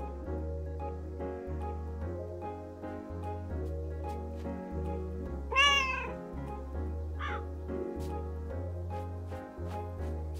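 A cartoonish cat meows in the video game Calico, one short rising call standing out over steady, busy background music.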